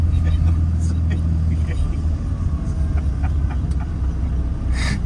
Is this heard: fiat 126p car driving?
yes